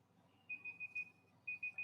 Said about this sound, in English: That same beeping is the same beep on my GoPro, so that makes me think my GoPro's cutting off.